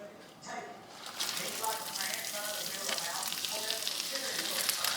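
Spinach sizzles and fries in a pan for a soft, steady crackle that swells after a brief quieter moment at the start, with faint stirring mixed in.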